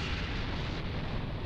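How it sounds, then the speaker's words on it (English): A large explosion in the Dragon Ball Xenoverse 2 video game, heard as a sustained, loud, rumbling roar that fills the whole moment without any break, with no voices over it. "You were afraid of being caught in the explosion."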